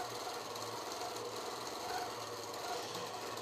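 A sewing machine runs steadily during freehand quilting, a continuous close mechanical hum and rapid needle chatter that holds at an even level throughout.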